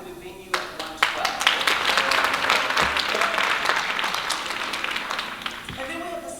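An event audience applauds a waterfront wedding venue during an awards announcement, scattered claps building into steady applause for several seconds, with some individual sharp claps standing out and talk mixed in.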